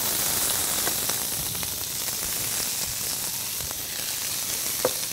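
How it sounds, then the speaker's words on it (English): Egg ingredients sizzling in a pan of blended canola and olive oil, a steady crackling hiss with a few sharp pops, close and alone without speech. "You hear the sizzle?"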